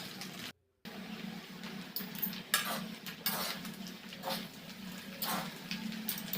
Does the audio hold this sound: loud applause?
no